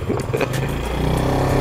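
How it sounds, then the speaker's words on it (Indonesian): A motorcycle engine on a rough rural access road in East Kalimantan roars up close, its low rumble rising and holding steady under some rattling clatter. "Kita naik motor biar lebih cepat."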